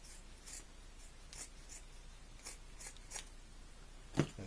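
Tuxedo fabric being cut gives a series of faint, close, short snips at irregular intervals, with one sharper cut near the end.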